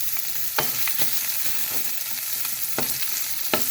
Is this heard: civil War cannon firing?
no